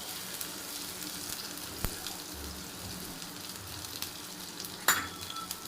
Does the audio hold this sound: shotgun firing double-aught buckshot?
no